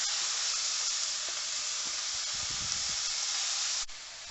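Meat sears in a hot pan for a blanquette, a loud, steady broad sizzle holding throughout with small crackles and spits, then dropping abruptly near the end.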